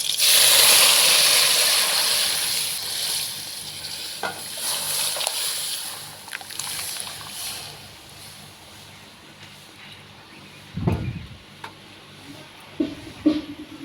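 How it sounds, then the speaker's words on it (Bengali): Lentils and beans hitting a hot tempering with green chillies for a Bengali masoor dal with broad beans: a loud sizzling burst at first that settles into softer frying, with a few stirring clatters near the end. "ফাটানো দুটো কাঁচা লঙ্কা দিয়ে দিচ্ছি এখন ডাল আর সিদ্ধাকে ফোড়ন করে দেবো"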